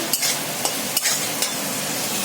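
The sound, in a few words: spice paste (masala) being fried and stirred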